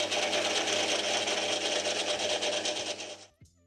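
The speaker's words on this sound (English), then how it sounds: "I'll start by facing the stock. I haven't turned much stock of this size before, and it's slow going" A metal lathe facing a large piece of stock makes a dense, steady cutting hiss over a low motor hum, then stops abruptly near the end.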